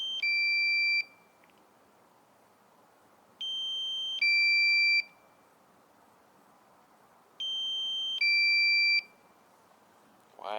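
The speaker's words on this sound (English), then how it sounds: "Why does it make that loud beep?" Three bursts of a shrill two-tone electronic low-battery warning beep from a DJI Mavic Air drone repeat at steady intervals, with faint background hiss between them.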